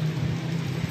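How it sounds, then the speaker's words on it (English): Rain falls outdoors in California, a short, even hiss of steady drops with a faint low hum underneath and no voices. "this is the only day it's rained on the entire freaking press trip"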